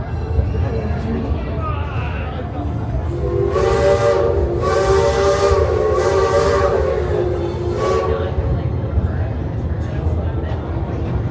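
A steam train whistle blows in several long, loud blasts over a constant rushing hiss of steam and rumbling rail noise, on an amusement park train at Cedar Point.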